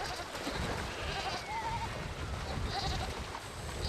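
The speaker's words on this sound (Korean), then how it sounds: "염소가 질질 끌려 강을 건넙니다." A goat being dragged across a river in the remote Siberian winter bleats several times over a constant wash of outdoor and water noise.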